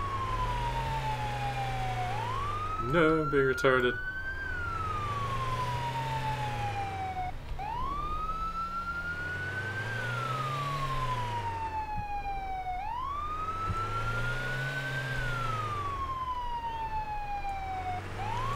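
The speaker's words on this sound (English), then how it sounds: "Oh, that was an ambulance." An ambulance siren wails in slow rising and falling sweeps, loud and steady throughout, with road and engine noise underneath and a short burst of voice early on.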